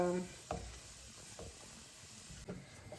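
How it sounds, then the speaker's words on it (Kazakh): A soft, steady sizzle of meat slowly frying in a covered pan, with a few light knocks from a pan or utensil; a brief voice fragment is heard at the start. "Содан кейін өзі жаймен қуырыла береді."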